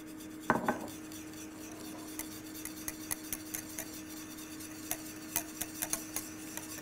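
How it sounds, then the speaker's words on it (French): Cocoa powder being mixed into hot liquid in a saucepan: a steady low hum under light, irregular clicks and taps of a utensil against the pan, with one louder knock near the start. "Et je viens mélanger l'ensemble."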